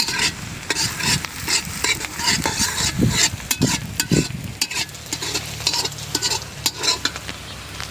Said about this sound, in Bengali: পেঁয়াজ মরিচটা ভাজে নিলাম